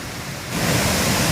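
Rushing water roars steadily from waterfalls at Manor Dam in the monsoon, a broad constant hiss that swells louder after the first half second.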